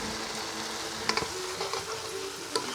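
Ginger and vegetables fry in a pan, giving a steady close sizzle with a few sharp stirring clicks and scrapes. No one speaks.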